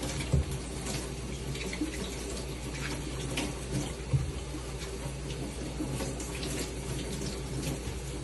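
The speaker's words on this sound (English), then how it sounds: "So you just wanna wash it off, make sure there's no dirt." Collard greens being washed under a running kitchen sink tap, a steady continuous rush of water close by with a couple of soft bumps, no talking.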